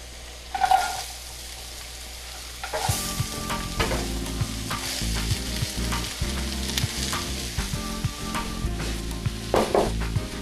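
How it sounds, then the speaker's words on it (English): Onion and celery sauté in a pan for a Thanksgiving dish, a steady sizzle with stirring and utensil clatter that starts after a quiet opening and continues throughout, close and fairly loud. "the onion and the celery are sauteing"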